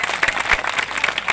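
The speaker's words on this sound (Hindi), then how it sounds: "तालियां बजाए ना" Audience at a Hindi-language church sermon breaks into a short burst of dense, steady applause, fairly loud and close, with no speech over it.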